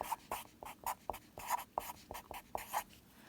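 Close, quick scratches of a pen writing on paper, about a dozen short strokes in an uneven rhythm, crisp and alone with no talking.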